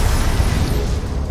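A Confringo blast curse explosion in Hogwarts Legacy, a loud, dense burst of fiery rumble with a heavy low end that fills the moment and fades only slightly.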